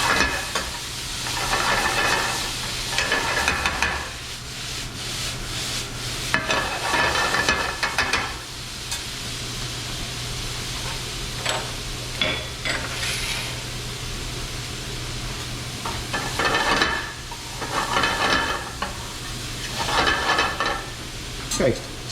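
Onions and raisins for an empanada filling frying in a pan: a steady sizzle and hiss runs throughout, swelling in bursts as the mixture is stirred, with a person speaking intermittently over the cooking.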